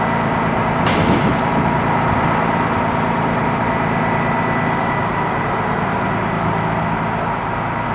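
A Mississauga Transit Orion VI transit bus idles with a steady engine rumble, punctuated by a sharp, loud air brake hiss early on and a softer release later.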